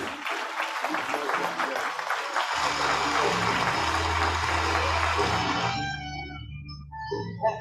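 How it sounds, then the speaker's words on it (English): An audience at a memorial lecture claps in a dense, lively burst, then the applause fades out and low music or a hum carries on beneath it. "If that is a clap, you make it lively"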